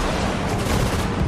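A brief, steady roar of massed gunfire and distant blasts in the World War II strategy game Sudden Strike 4, a dense unbroken wash of battle noise with no voices.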